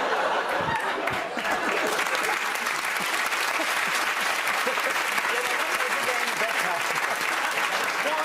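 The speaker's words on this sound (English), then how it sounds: "You people, will you just clap anything?" Studio audience clapping on a comedy panel show, dense sustained applause from a large crowd with a few chuckles mixed in, steady and loud throughout.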